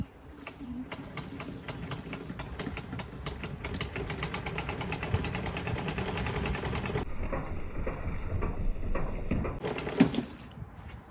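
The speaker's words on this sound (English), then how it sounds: "this retractable reel hose is so easy to put away" A retractable reel hose winds a garden hose back in with a continuous mechanical whirring and rapid clicking, close and steady, then stopping abruptly before a brief clunk and rattle.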